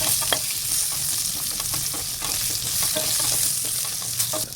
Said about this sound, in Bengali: এবার আমি এর মধ্যে আলু দিয়ে আলুটাকে ভাজা করে নিচ্ছি।